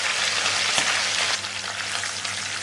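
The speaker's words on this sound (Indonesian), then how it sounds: "Dan kita masukkan ke dalam wajan, kita goreng sampai nanti matang." Steady, loud sizzling of chicken frying in hot oil in a wok, with a brief clank partway through.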